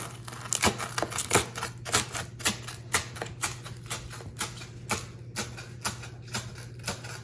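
A knife chops green onions on a board in a steady run of quick, light taps over a faint low hum, close by, with no voices.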